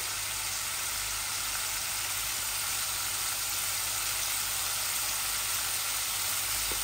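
Radish and carrot fry in a pan with a steady, even sizzle and hiss, close and continuous with no talk.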